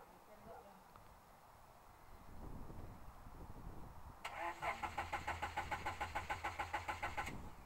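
A Honda Civic engine undergoing a Seafoam treatment cranks and catches, first a faint low run with background noise, then a louder rhythmic pulsing idle with steady chugging beats for the last few seconds.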